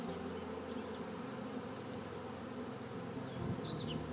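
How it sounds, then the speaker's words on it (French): Honeybees fan their wings at the entrance of a hive, making a steady, close, droning buzz that never lets up, with a few faint high chirps in the background. "Les abeilles relèvent leur abdomen et en battant des ailes, elles appellent les autres à rejoindre la ruche."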